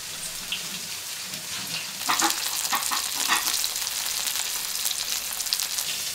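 Fish pan-frying in hot oil in a non-stick pan, a loud continuous crackling sizzle close up that intensifies after a moment and keeps spitting steadily.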